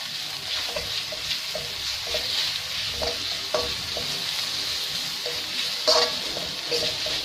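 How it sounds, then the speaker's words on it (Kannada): Ginger garlic paste fries in a pan for egg fried rice, a steady close sizzle with occasional light scrapes and stirring knocks, no talking. "ಸೊ ಅದು ರಾ ಸ್ಮೆಲ್ ಹೋಗುವವರೆಗೂ ಫ್ರೈ ಮಾಡ್ಕೊಳ್ಳಿ"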